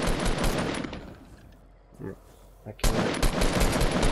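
Rapid machine-gun fire in an online shooter game with grenade launchers, rockets and sniper rifles, loud and close in dense bursts that break off for a moment and then resume, with a player's brief voice in the middle.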